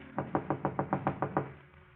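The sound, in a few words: knock at an apartment door in a radio drama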